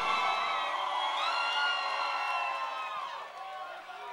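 A nightclub crowd at an underground reggae party cheers and whoops loudly for the DJ, a dense, steady roar of voices with some clapping that fades slightly toward the end.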